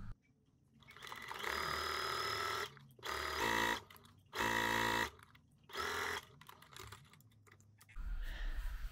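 A home sewing machine sews a blouse side seam from shoulder to marked dot, running in several separate bursts of rapid, close stitching with short pauses between, then a low rumble at the end.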